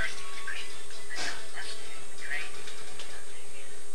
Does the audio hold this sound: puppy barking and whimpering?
yes